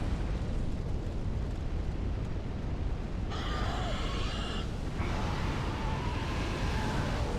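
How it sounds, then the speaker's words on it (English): Dragon fire breath in Dark Souls 3: a continuous roaring, rushing blast that stays loud and steady the whole time, with a brief brighter hiss partway through. "Dragon just fires off those breaths pretty frequently"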